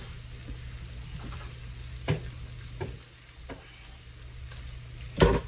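Onions sizzle steadily in a pan with fresh rosemary and sprigs of thyme, alongside cranberries for a pork chop dish, close and continuous, with a few sharp stirring knocks and a louder clatter near the end.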